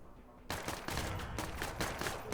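Pistol gunfire in the tactical video game Menace erupts as a burst of rapid shots after a quiet lead-in, a cluster of sharp reports repeating over about two seconds.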